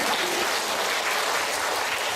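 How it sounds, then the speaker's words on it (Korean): A church congregation at a national revival gathering claps together in steady, dense applause, loud and continuous without any voices over it. "오늘 하나님께 영광의 박수 보내주시기 바랍니다"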